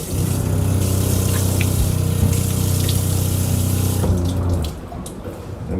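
A sailboat's watermaker desalinates seawater with a steady, loud pump drone and rushing water flow, continuous and close, easing slightly near the end.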